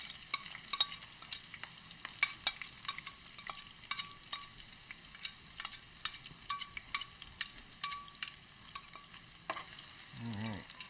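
Garlic and onions fry in a pan for a tomato pasta sauce, a soft bed of sizzle dotted with sharp crackles and pops, ending with a brief stir, no voices.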